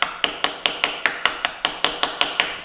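A socket used as a light hammer taps a countershaft seal into a KTM 300 dirt bike, giving about a dozen sharp metallic knocks in a steady, even rhythm, close and loud.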